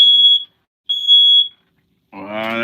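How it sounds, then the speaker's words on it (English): A smoke alarm inside an RV gives two loud, piercing electronic beeps, each about half a second, then a buzzy tonal sound follows at the end. "I bet my fire alarm goes off."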